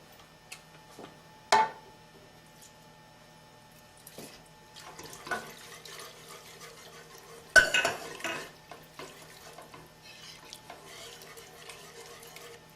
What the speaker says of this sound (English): We're going to add this into the mixture. Again, we're going to continue to whisk.